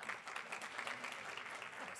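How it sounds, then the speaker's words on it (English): Applause at a Los Angeles County Board of Supervisors meeting, a steady patter of many hands clapping in the chamber for about two seconds, moderately faint with no talk over it. "Let's give him a round of applause."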